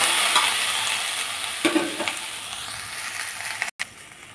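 Vegetables fry and sizzle in a pan while a spatula stirs them, producing a steady hiss with scraping strokes and a few sharp clicks, close and fairly loud, with no talking.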